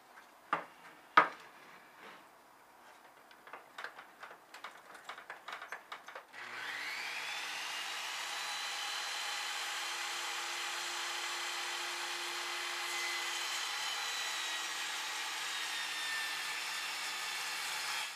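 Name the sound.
sawing a wooden board into 3/4 inch strips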